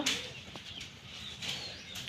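A short flurry of wing flaps, close and fairly loud, with some rustling around it.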